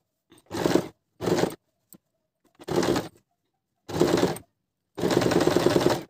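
A sewing machine stitches the centre seam of a kurti's round neckline facing, made without buckram, running in five short bursts that get longer, with brief pauses between them, fairly close and alone.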